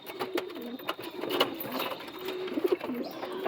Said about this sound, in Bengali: এসব পায়রা আমি ওড়াই